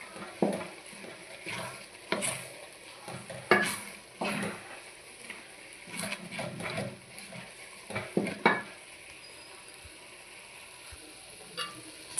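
A spoon stirs vegetable noodles with cheese in a hot pan, soft scraping strokes coming in irregular bursts over a faint steady sizzle, close and quiet.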